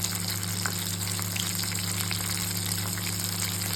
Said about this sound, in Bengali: স্ক্রিনে দেখতে পাচ্ছেন আমি ভেজে নিচ্ছি